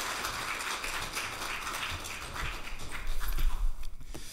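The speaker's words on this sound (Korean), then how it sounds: "목사님 올라오실 때 우리 환영합니다고 박수 한번 하도록 하겠습니다." A Korean church congregation in Springfield, Massachusetts breaks into soft, scattered applause, sparse claps at first and swelling slightly toward the end, heard at a distance.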